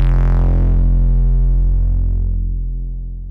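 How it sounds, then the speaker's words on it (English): Foldover distortion plugin processing a deep 808-style bass tone: a dense, buzzing harmonic growl with a bright swept edge at the start, sustained loud and alone before thinning and fading slightly. "You can use the fold over distortion and get that really like Travis Scott gnarly ripping sound."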